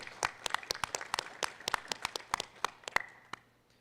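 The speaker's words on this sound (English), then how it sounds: "Yeah, claps." Scattered applause at a school board meeting: a small group claps in a few seconds of sharp, uneven hand claps that thin out and stop, close and moderately loud in a quiet room.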